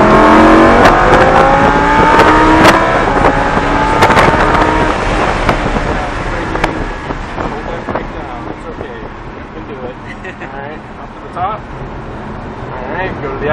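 Lamborghini Huracan LP610-4 accelerating at full throttle on the Summit Point Motorsports Park track, its engine roaring loudly and rising through the revs with gear changes, heard from inside the car as an instructor talks over it.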